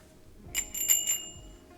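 The bell on a Kona Dew commuter bike gives four quick bright rings, close and clear, in a brief burst against a quiet background.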